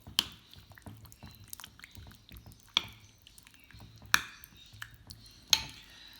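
Beef stir fry ingredients mixed together in a bowl for black bean sauce, giving soft wet squelches broken by a few sharp clinks of a utensil against the bowl, close and fairly quiet with no talking.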